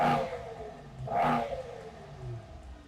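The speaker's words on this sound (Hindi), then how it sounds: "एग्जॉस्ट नोट कैसा है वो भी सुनते हैं।" Mercedes-AMG GT 63 SE exhaust blaring through two loud revs, one at the start and another about a second later, each swelling and fading back to a low burbling idle, with no talking.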